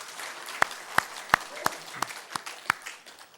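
During a Korean church worship service, a congregation claps for the choir. Sharp claps fall in an even, steady rhythm over a soft room background.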